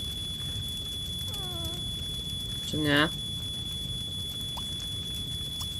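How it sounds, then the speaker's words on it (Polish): A smoke alarm in The Sims 3 video game sounds a steady, thin, high-pitched tone throughout while a person talks excitedly over it. "Jest alarm, to chyba ktoś przyjedzie"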